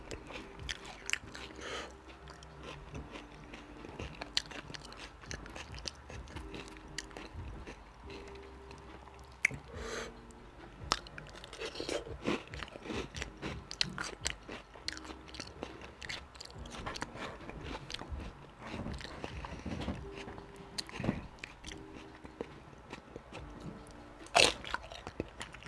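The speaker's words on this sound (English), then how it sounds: "This is how I eat my nachos." Flamin Hot nachos are crunched and chewed up close, with irregular crisp bites and steady munching that run on for a long stretch. No one talks.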